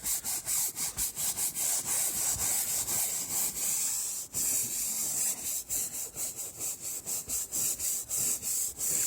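Brush scrubbing the soapy fabric roof of a Saab 9-3 convertible, fast rhythmic back-and-forth bristle strokes, close and continuous with brief breaks as direction changes.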